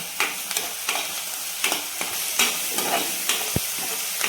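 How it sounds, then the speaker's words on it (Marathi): Green chili and ginger-garlic paste sauté in hot oil while a spoon stirs and scrapes the pan in repeated strokes over a steady sizzle, with a low thud near the end. "ही हिरवी मिरची आणि आल्या लसणाची पेस्ट आहे ती पण टाकून घेते ती चार तेलावर परतून घ्यायची आपल्याला"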